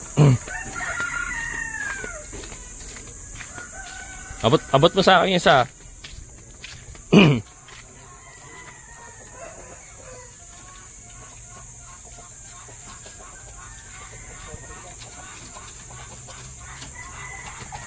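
Chickens cluck and squawk intermittently, with sharp close flurries and softer clucks, while a person speaks briefly and footsteps shuffle.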